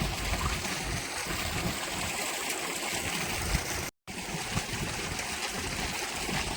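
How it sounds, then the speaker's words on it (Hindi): A running tubewell pours water into a rice paddy field, giving a steady, unbroken rush and gurgle of flowing water close by, with no talking over it. "ये ट्यूबवेल हमारा चल रहा है जिसमें पानी हमारे खेत"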